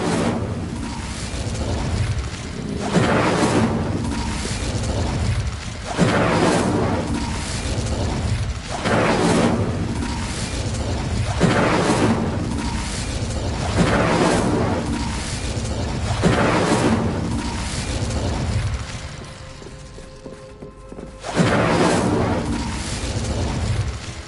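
Bombarda blasting spells in the Hogwarts Legacy game, heard as repeated booming explosions roughly every three seconds, each a loud burst trailing into crumbling debris and mechanical clatter over continuous game ambience.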